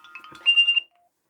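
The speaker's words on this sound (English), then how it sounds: "So there's a beep on the phone," A phone alarm sounds a brief electronic beep: a few soft chirps, then a clear, steady high tone lasting under half a second before it cuts off into silence.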